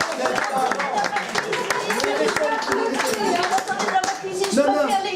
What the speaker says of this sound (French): un tonnerre d'applaudissements pour Joël